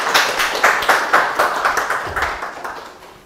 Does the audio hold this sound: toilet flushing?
no